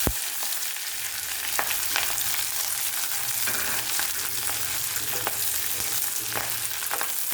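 Drumstick leaves tossed into a pan of hot oil with popped mustard seeds, sizzling and crackling steadily and close up, with scattered sharp pops and occasional stirring scrapes throughout.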